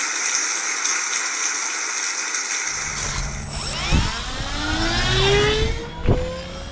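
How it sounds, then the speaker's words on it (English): Small electric motor of an autonomous model airplane in flight, a steady whine that rises and falls in pitch as it revs and sweeps past, over wind noise. "The rev motor revving a little bit as it's trying to match the speed."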